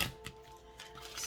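Playing cards given a hard shuffle in small groups of three, with a few quick riffling bursts of soft papery flutter close by, separated by quieter handling, with a faint steady hum underneath.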